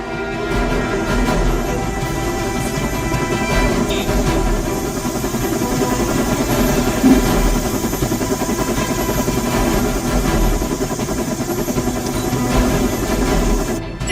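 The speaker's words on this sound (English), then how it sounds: "The helicopter is back in action." A helicopter in a game battle scene drones steadily and loudly for the whole stretch, a dense continuous rotor and engine roar with no break or talking.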